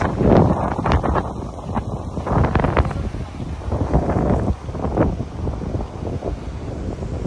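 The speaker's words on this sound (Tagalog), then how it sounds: "Mahangin dito, guys." Strong wind buffets the microphone outdoors on a coastal trip in Ilocos, a continuous low roar with gusty swells, while a voice talks intermittently underneath.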